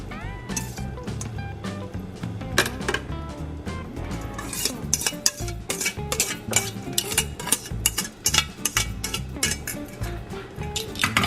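Fettuccine being stirred into a creamy, cheesy shrimp sauce in a pan, with a steady run of utensil scrapes and light clinks against the pan, close and busy, and no voices.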